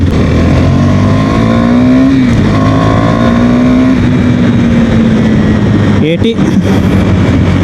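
A KTM Duke 390 motorcycle accelerates hard, recorded close from the rider's position, its engine note climbing steadily through the gears with brief dips at each shift and constant wind buffeting.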